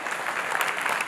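Brief burst of audience applause at a speech, a moderately loud wash of clapping hands lasting about a second.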